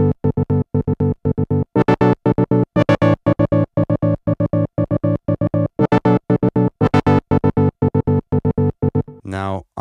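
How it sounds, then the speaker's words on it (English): A Polymax synth patch chopped by a rhythmic trance gate into fast, evenly pulsing stutters, loud and upfront with no voices, ending in a brief pitch sweep. "the first thing I had in mind is this kind of trance gate sound"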